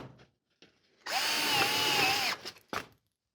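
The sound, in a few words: power drill driving screws into sheet metal duct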